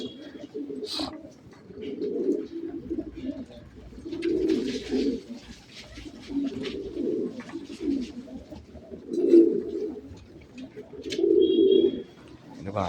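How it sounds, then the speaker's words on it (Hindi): Pigeons on a hot day cooing close by in repeated low throaty bursts, with faint chirps and small background noises between calls. "प्यासे हो रखे कबूतर।"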